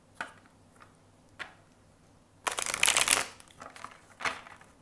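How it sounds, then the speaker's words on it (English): Tarot cards being shuffled: a few soft isolated taps, then a dense burst of riffling flicks lasting under a second, followed by scattered lighter card clicks, quiet and close. "Let me mix the cards."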